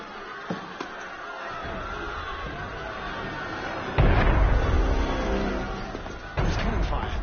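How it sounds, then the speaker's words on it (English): Heavy cannon fire in the video game Assassin's Creed Unity, with booming blasts at about four and six seconds rolling out over a restless crowd ambience and a few quieter thuds. "There's cannon fire."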